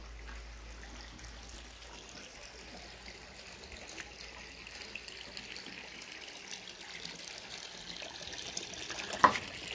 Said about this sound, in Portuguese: Passa muita água aqui, né, gente? Olha.